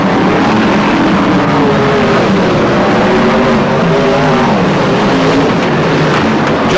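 Brisca F1 stock cars thunder past at a Boston race meeting, a loud, continuous engine roar with shifting pitch as cars pass and rev.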